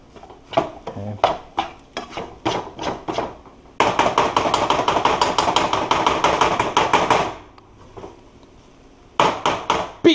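Chicken fried rice cooked in a wok, with hard, rapid metallic strikes of a spatula against the pan, then a long dense stretch of sizzling and scraping, then more sharp clanging hits, loud and close.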